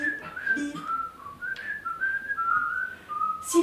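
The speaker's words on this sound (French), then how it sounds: "Siffler pour être heureux." A person whistles a wandering melody, clear and fairly close, with sliding notes and short pauses, no talking.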